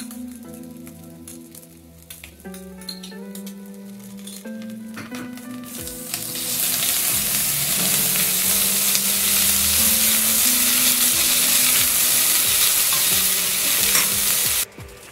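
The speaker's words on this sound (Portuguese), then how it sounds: "a gente pode agora colocar a cebola e o alho. Deixa fritar mais um pouquinho" Onion and garlic frying in a pan for a pasta dish with sausage and bacon: a quieter stir with spoon clinks at first, then a loud, dense, close sizzle swells and holds steadily until cutting off abruptly, with a low background hum and no voices.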